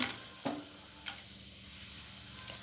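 Seven or eight dry red chilies fry in hot oil with onion and garlic, giving a continuous soft sizzle broken by a few sharp stirring clinks, close and steady, with no talking.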